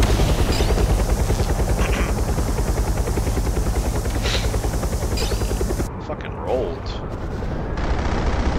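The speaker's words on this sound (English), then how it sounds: "Helicopter blocking." In the Tacticool mobile shooter game, a helicopter's dense rotor thump churns continuously under heavy gunfire, loud and close, then cuts off abruptly near the end.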